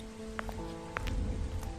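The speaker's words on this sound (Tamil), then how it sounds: "சுமன், இன்னைக்கு எப்படி மழை பெய்யுது?" Rain falling in a Tamil cartoon, a brief patter of drops on a surface under a soft musical backing, with a few sharper individual splashes.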